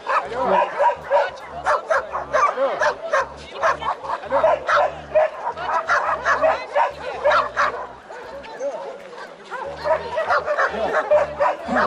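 A laika dog barks and yips excitedly in rapid, continuous bursts, fairly close, with a voice faintly mixed in, at a Yakutian laika dog show.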